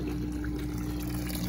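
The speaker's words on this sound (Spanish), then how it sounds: "Ahí el agua está saliendo." Water runs steadily out of a homemade fish pond filter fed by a small pump, a continuous low gurgling flow with a faint trickle over it.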